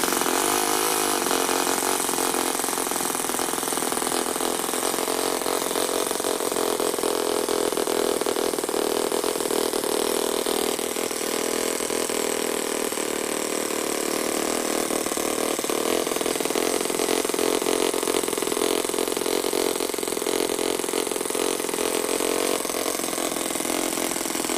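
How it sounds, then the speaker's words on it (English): A real four-stroke engine in an RC buggy idles with a lumpy, slightly uneven rhythm, running rich, loud and close, droning steadily without pause and with no speech. "Now if I just richen up a bit, it should make a little bit more lumpy of an idle"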